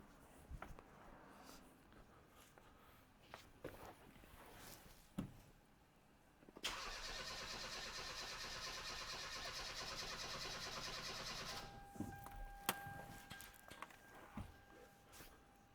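A Hyundai Veloster Turbo with a cranks-but-won't-start fault is cranked over for about five seconds, the starter churning steadily and loudly without the engine catching, with quieter shop noises and clunks before and after.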